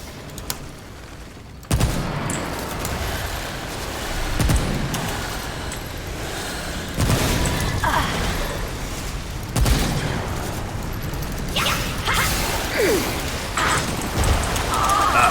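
Sniper rifle gunfire in the video game Remnant, in the Swamp of Death: sharp, loud shots recurring at irregular intervals over a dense, rumbling battle background, with no speech.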